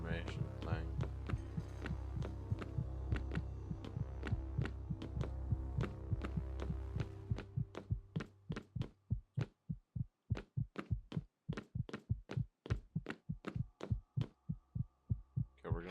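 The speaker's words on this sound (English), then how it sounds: "I can hear my heartbeat pounding through my ass" A pounding heartbeat effect in the Lovecraft's Untold Stories game, first over a low droning hum, then standing out alone as steady, evenly spaced deep thumps that continue to the end.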